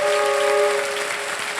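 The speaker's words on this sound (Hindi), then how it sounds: "तालियां बज जाए इनके लिए" A studio audience at a television quiz show applauds, a dense burst of clapping that fades slightly over its short length.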